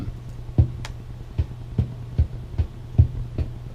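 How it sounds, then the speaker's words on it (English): A soft synthetic kick drum thumps in a steady, evenly spaced pattern, low and rounded, with nothing else playing. "what you're hearing is a little synth kick drum that's playing that sound"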